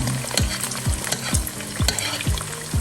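Egg frying in a pan with a steady sizzle, while a utensil scrapes and stirs several times at a regular rhythm, close and moderately loud, with no talking.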